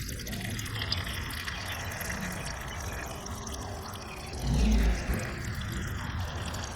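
Transmission fluid drains from a 2016 Kia Sorento in a steady liquid pour and trickle, close by and moderately loud, with a brief heavier gush midway.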